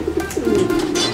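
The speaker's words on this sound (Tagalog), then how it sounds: "Ganda ng ibon na to." Racing pigeons coo steadily in a loft, a continuous low throaty cooing with soft rising and falling pulses, close and moderately loud throughout.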